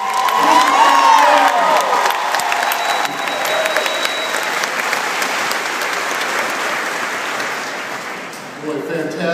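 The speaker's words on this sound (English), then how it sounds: "let's begin by giving a great round of applause to Tennessee State University." A large crowd at the Opry Mills grand reopening ceremony breaks into loud applause and cheering for the Tennessee State University marching band, with dense clapping, scattered whoops and shouts, and the roar slowly easing toward the end.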